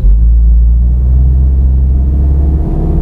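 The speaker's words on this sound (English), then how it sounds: "Tiptronic sports mode, left foot on the brake, right foot on the accelerator, revving the car" A petrol car held in Tiptronic sports mode is revved against the brake, producing a loud, close, heavy engine drone with strong low rumble that stays steady for a few seconds before dipping slightly near the end.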